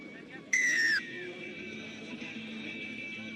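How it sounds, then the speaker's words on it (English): A referee's whistle at a professional MLR rugby match between Utah Warriors and Rugby Los Angeles gives one sharp, half-second falling blast over steady crowd murmur, with faint commentary nearby. "Look at this push, and now it's whistled."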